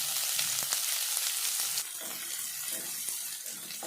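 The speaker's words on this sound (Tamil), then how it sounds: "இதெல்லாம் சேர்த்து நல்லா வதக்கி விடலாம்" Finely chopped large onion sizzles and crackles in hot oil, a steady frying hiss with light stirring scrapes.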